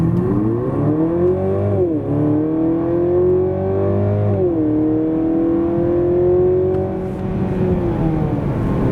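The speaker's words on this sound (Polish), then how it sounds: "Tak GLC 300e przyspiesza od 0 do setki." A Mercedes GLC 300e plug-in hybrid with a 2.0-litre 313 hp powertrain launches from standstill to 100 km/h. The engine note climbs steadily through several gear changes that dip the pitch, loud and close with no talking.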